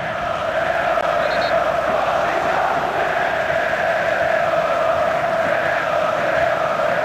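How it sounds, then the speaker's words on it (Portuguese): Football crowd of Corinthians and Palmeiras fans singing together in a stadium at a Brazilian championship match, a steady massed chant that fills the space without pause. "Enquanto a torcida canta"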